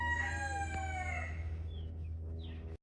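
A Brahma Splash rooster, a giant speckled breed, lets out one loud, close crow that trails off, followed by a few faint high chirps from other birds.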